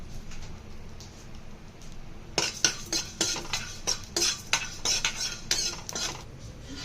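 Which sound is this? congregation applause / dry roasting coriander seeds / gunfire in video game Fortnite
dry roasting coriander seeds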